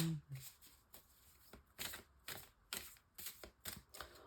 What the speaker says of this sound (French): Je peux peut-être mettre une autre carte là-dessus.